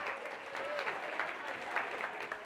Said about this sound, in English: Turn to each other and give yourselves a round of applause.